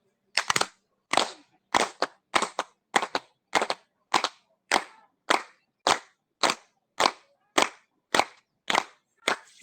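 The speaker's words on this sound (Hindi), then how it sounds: "ताली बजा लो इस भजन के लिए।" Audience applause in rhythmic unison for a bhajan during an online yoga session, about sixteen sharp, evenly spaced claps over ten seconds, crisp and close, with no voices.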